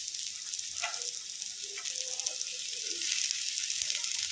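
Garlic frying in a pan for a rustic paneer masala in black gravy, a steady hiss of sizzling oil with a few faint clinks of stirring underneath.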